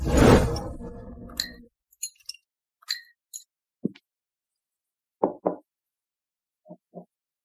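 Spoon clinks and small plops as sugar goes into a cup of coffee, a series of short, sharp, close taps spaced out with quiet between them after an opening rush of sound.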